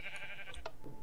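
Sheep bleating in the Minecraft video game, a short nasal bleat in the middle of the moment over low background game noise, with no talking.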